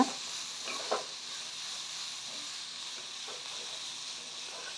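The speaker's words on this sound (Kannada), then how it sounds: "ನೋಡಿ ಈರುಳ್ಳಿ ಸ್ವಲ್ಪ ಬ್ರೌನ್ ಆದರೆ ಸಾಕು" Onions frying over a medium flame in a pan until lightly browned, giving a continuous soft sizzle with a couple of brief stirring knocks near the start.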